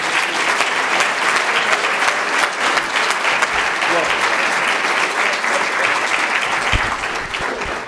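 A large audience applauds to welcome Dr. Michael Rydelnik to the stage, producing loud, dense, continuous clapping that fills the room evenly from start to finish.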